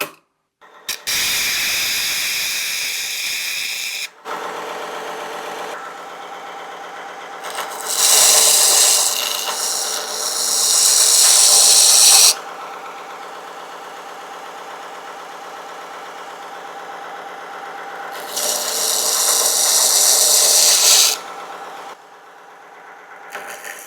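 A mini electric belt sander grinding a damaged knife tip, a loud steady whirring drone with harsher, brighter surges when the blade presses on the belt, close up and without talk.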